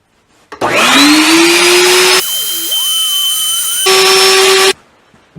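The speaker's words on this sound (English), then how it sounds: "So I'm going to round that off so it's nice and round with this round over router" A round-over router bit rounds the edge of a wooden banjo rim: the motor whines up to speed, its pitch sags and wavers under load while cutting, then it returns to a steady high whine before stopping abruptly.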